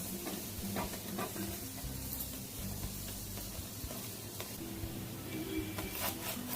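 A sattu paratha fries in a pan with a steady, moderate sizzle, accompanied by occasional scraping and stirring taps of a spatula. Nobody speaks.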